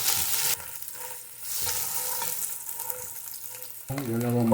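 Ginger and crushed garlic sautéing in canola oil for chicken feet adobo, a loud close sizzle with stirring, ending in a short burst of voice.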